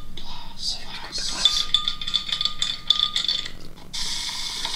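Ice cubes clink against a glass as Coke is poured over them: a run of bright, close chinks and rattles, with soft voices murmuring underneath.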